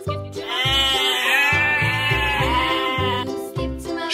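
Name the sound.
sheep bleating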